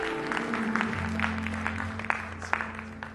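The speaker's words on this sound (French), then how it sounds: "On lui donne une bonne main d'applaudissement pour ce qu'il a fait à la croix." Church congregation applauding during a French-language service, a steady wash of clapping with some sustained music or hum underneath, moderately loud throughout.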